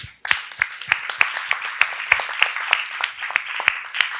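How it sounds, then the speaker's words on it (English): Audience applause at the closing of an Asia Pacific Internet Governance Forum conference, with a few sharp, evenly spaced rhythmic claps standing out over a softer wash of clapping, fairly close and steady for about four seconds. "Please join me in a round of applause for them."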